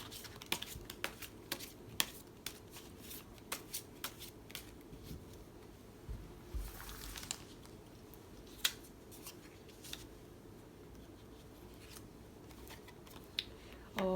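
Tarot cards being shuffled, soft repeated riffling and flicking taps, close and quiet, steady throughout with a brief louder flutter midway.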